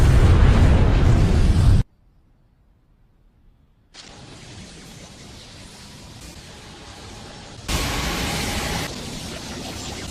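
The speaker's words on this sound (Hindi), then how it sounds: "धमाके को एक दूसरे स्पेस में भेज दिया।" A Naruto Shippuden anime explosion bursts out as a loud roaring blast, cuts to near silence, then returns as a steady rushing noise that surges into a second louder wash before fading slightly.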